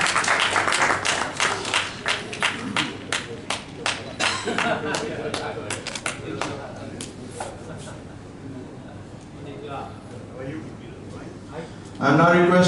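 Applause from an audience at an industry award ceremony, loud crisp clapping from many people that fades gradually to a few scattered claps, before a sudden louder burst of sound at the end.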